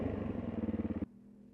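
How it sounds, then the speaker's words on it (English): A loud dirt bike engine roars close by with a pulsing, revving rhythm, then cuts away abruptly after about a second as it passes, leaving a faint low hum. "Leon's bike, pretty loud."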